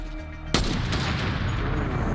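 A single sharp sniper shot cracks loudly in Fortnite, close by, after a quiet hum. A long, noisy rumbling tail follows the report.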